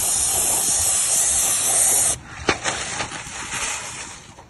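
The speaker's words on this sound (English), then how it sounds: "So you give a nice quick spray on it." A spray paint can hisses in one loud, steady burst onto a stencil for about two seconds, then stops, followed by faint handling clicks and rustles.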